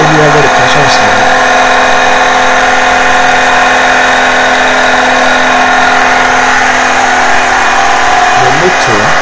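A small 1 kW converted petrol generator runs at a steady loud hum with a constant mechanical whine, unbroken for the whole stretch, with faint voices underneath.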